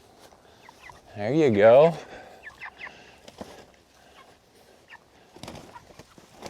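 Farm poultry, including turkeys, gather at a feeder and waterer, with one loud gobble standing out near the start and softer clucks and scattered movement after it, while a person speaks briefly.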